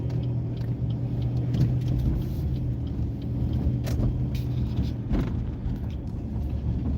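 A car drives along a bumpy road during a driving lesson, its steady low rumble filling the cabin with a few soft thumps from the uneven surface and no talking.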